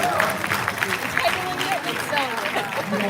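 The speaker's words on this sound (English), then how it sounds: "I think we ought to give ourselves a big round of applause." Applause from an audience at a Vietnamese American community honoring ceremony, a dense round of clapping mixed with cheering voices and crowd chatter, fairly loud and continuous.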